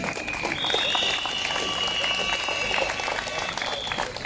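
Outdoor crowd applause at an AfD rally vigil on the Kornmarkt in Bautzen, a loud, sustained clapping from many people with a faint high tone running through it.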